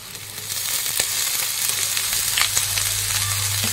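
Cabbage goes into a pan of fried potatoes, setting off a loud, continuous sizzle with scattered sharp stirring clicks and crackles, with no voices.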